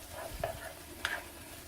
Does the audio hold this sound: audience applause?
no